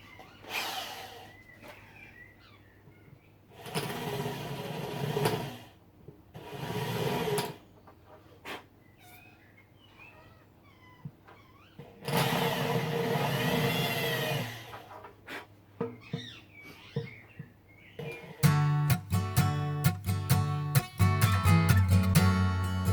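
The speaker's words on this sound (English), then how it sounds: "I'm going to drill out some of these smaller bubbles" An electric drill whirs in several separate bursts of a few seconds each, drilling out small air bubbles in hard epoxy on an end-grain wood and epoxy table top, with a denser, rattling buzz toward the end.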